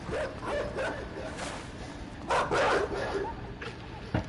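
A dog barks in a video game as it chases the player, giving several sharp, close barks in irregular bursts, with a louder cluster near the middle and a final yip at the end.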